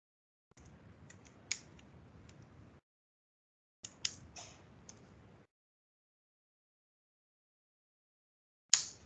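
Keys clack on a computer keyboard as assembly code is typed, quiet, close bursts of tapping separated by pauses of silence, ending with a single sharper click.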